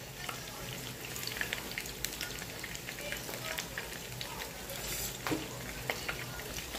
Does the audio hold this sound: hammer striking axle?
no